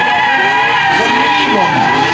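A car drifting at a motor festival sends out a continuous loud, high tire squeal over a steady engine roar, close by and unbroken for the whole moment.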